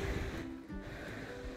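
Ocean surf washes onto the shore at Lodbjerg in a steady, moderately faint rush, with wind noise buffeting the microphone.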